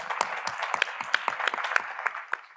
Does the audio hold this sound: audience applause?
yes